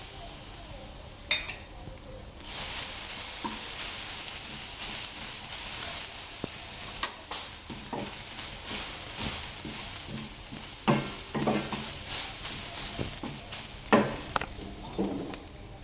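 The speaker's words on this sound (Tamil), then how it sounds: "சட்டி காஞ்சிட்டோன்னே மிளகா போடுங்க" Chillies fry in a hot pan for Malaysian mutton masala, a steady loud sizzle with sudden bursts of crackling and spitting as they hit the oil, then intermittent stirring clatter, near and without talk.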